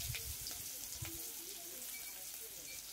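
Onions frying in hot oil in a pan for a fish curry with elephant foot yam, a steady close sizzle with soft crackle and a few low knocks near the start.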